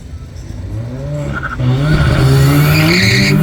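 Drag race launch of an Audi S3 against a Nissan GTR: tires squeal and engines rise sharply, growing much louder halfway through as the cars pull away, close and intense.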